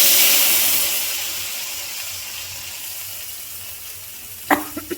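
Spice paste with freshly roasted ground cumin hits hot oil in a pan, sizzling loudly at first and then fading to a softer hiss, with a few sharp utensil clinks at the end.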